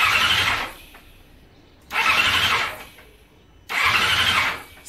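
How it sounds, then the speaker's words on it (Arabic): A homemade motorcycle engine revs in three loud, close bursts about two seconds apart, each rising and then falling back toward idle. "الموطور غيبدا يطير غيبدا يدور هذا الموطور هذا"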